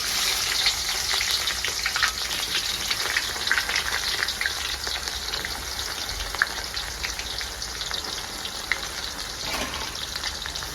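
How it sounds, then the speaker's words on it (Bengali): Chopped onions frying in hot oil for a large batch of mutton curry, a loud, dense, continuous sizzle and crackle close up with faint stirring scrapes throughout. "প্রথমে তেলে দিয়ে দিব পেঁয়াজ কুচি"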